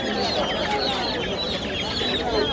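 Several small native chickens cluck and chatter continuously close by at an old village market, a busy overlapping flock with faint background bustle.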